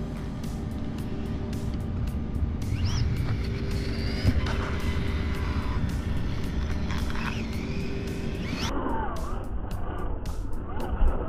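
A Losi ProMoto MX Pro Circuit Edition RC motorcycle revs hard through speed-wobble wheelies, a steady close whine with rising and falling pitch sweeps, and no talking.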